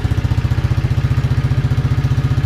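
A Modenas Kriss 110 underbone motorcycle engine idles close by, a steady, even low putter with a regular pulsing beat that holds throughout with no voices.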